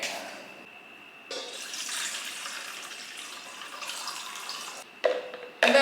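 Boiled water pouring into a bowl or container for bagel dough, a continuous splashing trickle that swells and fades in stretches, with short clatters near the end.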